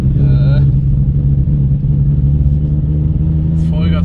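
A Volkswagen Polo 86C engine, a barn-find car, revs loud and close at full throttle in a steady droning roar, with brief voices at the start and end.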